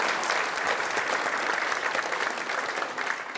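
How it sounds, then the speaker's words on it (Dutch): Audience applause for a government minister at a public event in Zeeland: dense, sustained clapping from a sizeable crowd, even and continuous from start to finish. "En een applaus."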